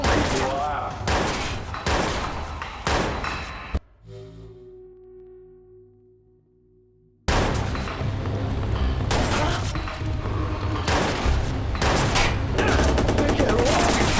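Heavy gunfire in the video game Watch Dogs rattles in loud, dense bursts against armor, breaking off briefly into a quieter stretch with a fading tone before sustained firing resumes at full volume.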